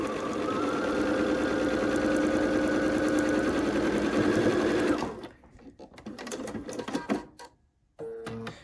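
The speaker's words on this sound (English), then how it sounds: "Sew to the seam, needle down, match the end if you have to, and a little tug." A sewing machine stitches quilt blocks along a seam for a Bear Paws in the Snow quilt, running in a steady fast whir for about five seconds before stopping, then fabric handling and small clicks of the machine follow.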